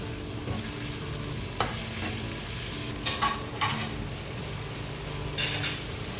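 Ginataang tangkay ng gabi, taro stalks in coconut milk, stirred in a pan with a soft background sizzle, a few sharp clinks and scrapes of a utensil against the metal, close by.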